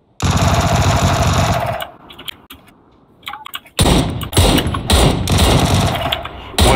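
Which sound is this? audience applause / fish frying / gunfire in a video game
gunfire in a video game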